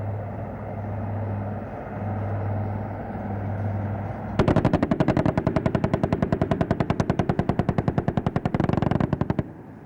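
Helicopter 20mm guns fire at ground targets during the Vayu Shakti 2019 Indian Air Force demonstration: a low rumble, then a long rapid burst of loud, evenly spaced shots lasting several seconds.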